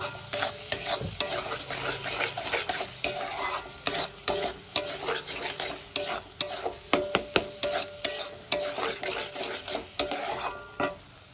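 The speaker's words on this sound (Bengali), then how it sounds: "মশলাগুলো দিয়ে আমি ভালো করে কষাতে পারবো" Ground turmeric and other basic spices are sautéed in a pan with constant stirring. Rhythmic scraping and clinks of the spoon against the metal run over a steady sizzle, loud and close, with no talking.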